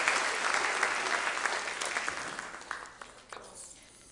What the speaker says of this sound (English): Cheers and claps and dings.